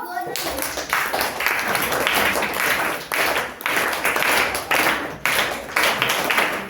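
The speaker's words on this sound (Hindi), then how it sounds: "वाह बच्चा, ताली बजाओ तो" Children in a classroom clap together in loud rhythmic bursts, several rounds of hand claps with short pauses between them, and voices are heard over the clapping.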